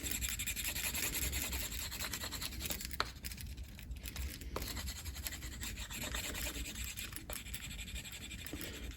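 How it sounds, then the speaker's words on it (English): A burnishing tool is rubbed along the edge of a leather knife sheath, giving a continuous close scratchy friction sound with faint rhythmic strokes and a couple of small clicks. "we take our burnishing tool and you're gonna come along here"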